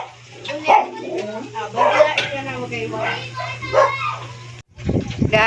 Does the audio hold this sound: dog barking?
yes